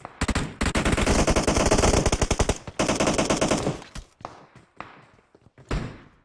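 Rapid bursts of automatic gunfire crackle in long sustained volleys, then break into scattered single shots and pauses, with loud combat effects from PUBG Mobile.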